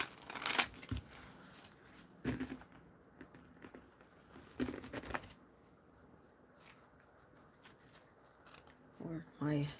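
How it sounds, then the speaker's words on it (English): A deck of reading cards is shuffled by hand in several quick riffling bursts spread across the stretch, close and crisp, with a voice speaking briefly at the end. "Let me shuffle it up for Techie"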